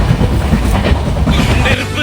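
A train running at about 80 km/h on rails close by in the Goa region, giving a dense, continuous rolling rumble for two seconds.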